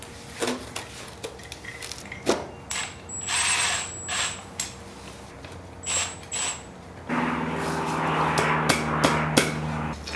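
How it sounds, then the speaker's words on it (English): A long bolt being tapped into place on a Yamaha XJ600 motorcycle during chain and sprocket work: a series of sharp, close metallic taps at irregular intervals, followed by a denser clattering rattle near the end. "Tap it, tap, tap."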